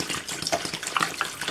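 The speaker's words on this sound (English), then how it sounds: "just remove the cap and pour." Vinegar pours from a bottle into an old miner's lamp to clean rust, making a soft gushing, splashing trickle with small bubbly gurgles, close but fairly quiet, with no talking.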